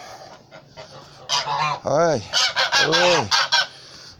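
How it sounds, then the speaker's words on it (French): Several geese honk loudly and repeatedly up close in a goose and hen enclosure, overlapping calls in a noisy cluster, with a brief spoken word among them. "des oies et des poules"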